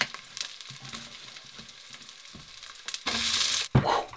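Onion frying in a saucepan gives a low, steady sizzle with faint stirring scrapes. Near the end a louder burst of crackling hiss flares up, and no one speaks.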